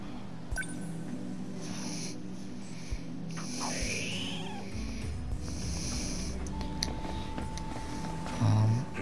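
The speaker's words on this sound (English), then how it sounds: "I know that cat. It's Okino's little friend again." A cat meows in the video game 13 Sentinels: Aegis Rim, a short, faint cry near the nine-second mark that sits over a steady bed of game ambience and a low hum.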